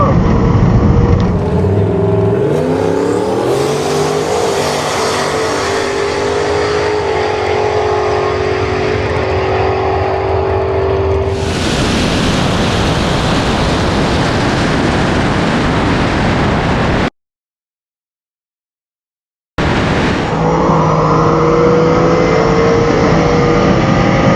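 Drag racing cars launch down a quarter-mile strip on Pro Tree starts, a loud roaring engine rush that sweeps and fades, then a second roaring pass after a brief dropout, with wind noise throughout.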